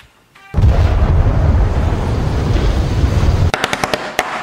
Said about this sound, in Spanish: te vas allí con la explosión en el mar